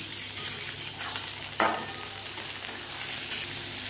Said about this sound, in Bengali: এইবারে এর মধ্যে দিয়ে দেবো আমি ম্যারিনেট করা মাংসটা। এই মাংসটা দিয়ে সুন্দর করে কষে নেব